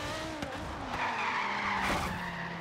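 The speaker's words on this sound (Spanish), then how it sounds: "Y es que no sé por qué ahora le ha dado por patinar ahí en plan locura" Car tires skidding in Forza Horizon 3 on Xbox Series X: steady engine drone with squealing skids swelling twice, loud and continuous.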